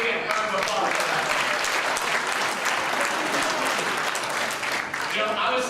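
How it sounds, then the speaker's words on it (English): A convention audience applauds itself, a steady, full-room roar of clapping sustained throughout without pause. "Give yourself a big round of applause for that."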